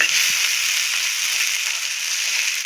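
Chicken sizzles and fries with spices in a pan, producing a continuous, fairly loud hiss with faint crackles throughout and no talk.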